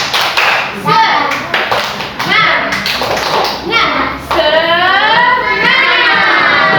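Children doing a rhythmic spirit clap, bursts of patterned clapping and taps mixed with chanting young voices and an adult leading.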